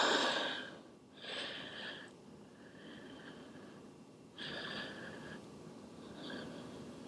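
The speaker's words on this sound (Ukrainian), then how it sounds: "Дихаємо спокійно." Slow, calm breaths drawn in and let out through the nose during a yoga practice, soft and close, in a few long gentle cycles with quiet pauses between.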